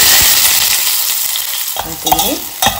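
Onions frying in hot mustard oil with cumin seeds, a loud close sizzle that eases slightly, then a few sharp spatula stirs and scrapes near the end, no voices.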